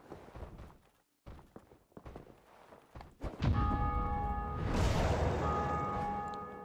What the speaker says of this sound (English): I've been hearing the bells go off